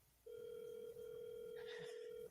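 A telephone ringback tone on an outgoing call, a single steady electronic tone sounding clearly after a short pause, with faint voices murmuring near the end.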